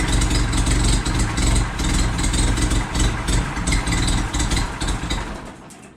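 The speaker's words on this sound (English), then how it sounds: "It starts to finally idle itself down and it'll eventually just die." An older car engine with an electrical fault idles loudly nearby, its rough running gradually easing and fading toward stalling out.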